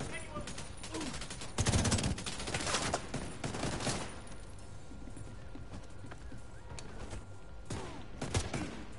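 Gunfire bursts from an online shooter game, a loud cluster around two seconds and scattered shots after, heard faintly beneath background game noise.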